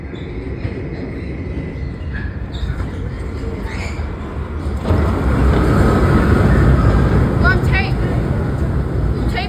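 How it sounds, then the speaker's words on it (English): A D subway train running on the F line toward Coney Island rumbles steadily from inside the car, growing louder halfway through, with people talking over the ride. "This train's going to Coney Island."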